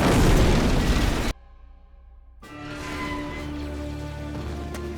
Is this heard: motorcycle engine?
no